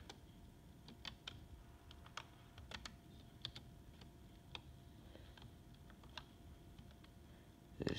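Soft, scattered clicks of one-handed typing on a computer keyboard, quiet and irregular against a faint room hiss, with a louder knock at the very end.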